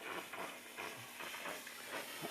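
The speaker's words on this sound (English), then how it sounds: "I pull the trigger here, and you'll see the steam come out." Steam hisses from a VS4000 steam machine's nozzle as the trigger is pulled, a soft, broad, continuous rushing hiss with slight pulsing, fairly quiet and close, with no talking.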